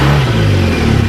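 A cafe racer motorcycle engine runs steadily at close range, a loud continuous low idle with a slight rev throughout, alone without talk.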